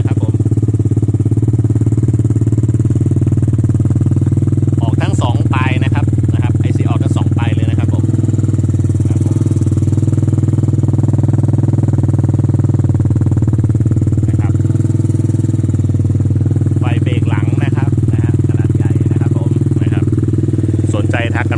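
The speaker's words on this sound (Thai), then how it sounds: "ท่อไอเสียเสียงนุ่มเพาะเลย" A 150cc ATV engine idles steadily with a low, smooth exhaust drone, broken by a few brief clattery bursts.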